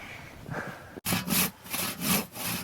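A hand saw rasps through wood in steady back-and-forth strokes, each stroke a loud, gritty swish, close by and with no talking.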